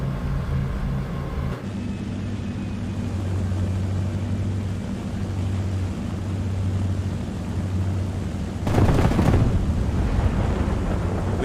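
A World War II–style aircraft in War Thunder drones steadily with a low engine hum, then after several seconds a bomb impact bursts in with a loud, broad blast that rumbles on beneath the engine.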